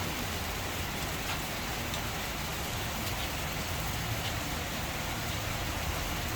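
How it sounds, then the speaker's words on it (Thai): Steady rain falls as a continuous broadband hiss, fairly loud and close, with no voices and no distinct drops standing out. "วันนี้ฝนตกนะครับ"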